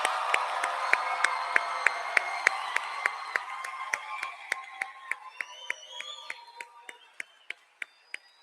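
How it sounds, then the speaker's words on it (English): At a nursing school pinning ceremony, an audience gives the graduates a round of applause that starts as a diffuse crowd patter and thins out to a few isolated, evenly spaced claps fading over eight seconds. "Let's give these students another round of applause."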